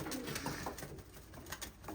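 A racing pigeon coos softly in low, throaty murmurs, repeated a few times over a steady background hiss.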